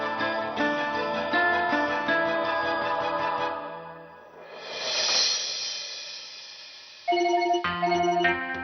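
A phone ringing loud and close with a melodic electronic ringtone, a repeating bright tune that fades briefly into a swelling tone before starting again, with no talking over it.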